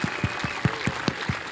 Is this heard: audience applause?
yes